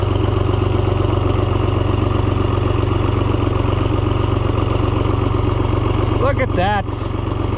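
An Oliver 1250-A tractor engine runs loud and close in first gear, a steady rapid chugging idle-like throb, with someone speaking briefly near the end.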